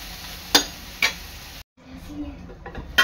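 Onion cooks quietly in a pan with a soft sizzle, broken by a few sharp clicks of a spoon stirring against the metal and a brief pause.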